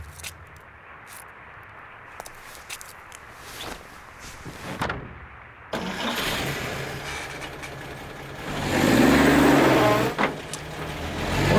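In the PC horror game White Night, quiet ambience with faint footsteps gives way to a car engine turning over and idling, then revving louder before settling, close and rumbling.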